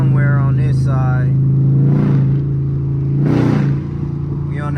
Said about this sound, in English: I got a major exhaust leak over here somewhere on this side.